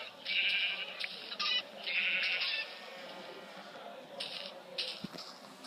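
Several Minecraft-style video-game sheep bleats, loud and close, in quick bursts early on, then quieter bleats later over a steady background hum.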